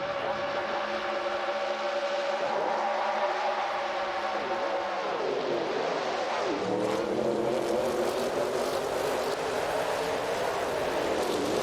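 AI-driven NASCAR race cars roar around Dustbite Speedway in a racing simulator game, a steady loud engine drone whose pitch rises and falls as cars pass and shift throughout.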